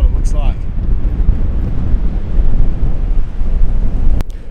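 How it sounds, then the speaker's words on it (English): Strong wind at the Kuru lookout at Kata Tjuta roars steadily across the microphone, a continuous close buffeting rumble with a faint brief chirp near the start. "the wind's really picked up"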